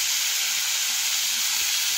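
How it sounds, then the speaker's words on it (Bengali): Drained boiled potatoes sizzle in a hot pan for a potato and pointed gourd stir-fry, giving a steady, dense hiss close by with no voices. "এখন আমি আলু সেদ্ধ করে রেখেছিলাম জল ঝরিয়ে, তো দেখুন সেগুলো এখন ঢেলে দিলাম"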